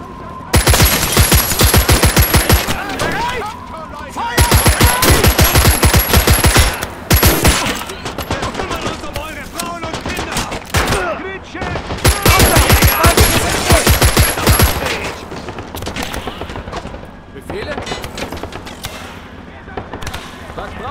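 Gunfire in the World War II strategy game Call to Arms - Gates of Hell, with long bursts of rapid machine-gun fire and scattered shots in dense, loud volleys separated by brief lulls, while soldiers' voices shout under the battle noise.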